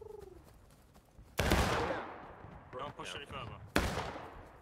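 Gunfire in the Civil War battle game War of Rights, two loud sharp shots or blasts about two seconds apart with rumbling tails, a voice speaking briefly at the start.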